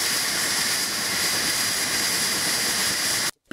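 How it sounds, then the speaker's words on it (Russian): Helicopter engine left running after landing at a nomad camp, a loud steady turbine roar with a high whine filling the clip, close and unbroken until it cuts off abruptly near the end. "Выходят из вертолета быстро, командир экипажа даже не глушит двигатель."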